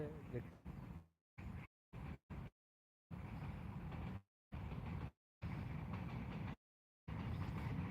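A train rumbles past close by, a broad steady roar cut by several abrupt silences, with a voice heard at times.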